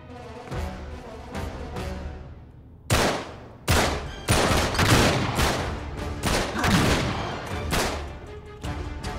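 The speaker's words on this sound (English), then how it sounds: "A lot of shots." Gunfire in Uncharted 3 in a London Underground setting: a quiet lull, then a barrage of loud, sharp gunshots in rapid bursts with some booming reports, ringing on for several seconds.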